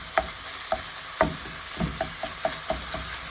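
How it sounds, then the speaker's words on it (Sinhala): Meat for chilli con carne sizzles in its own fat in a pan, punctuated by a regular rhythm of close stirring scrapes and taps, with no talking. "බ්‍රවුන් කලර් වෙනකම් අපි ඒක ෆ්‍රයි කරගන්න."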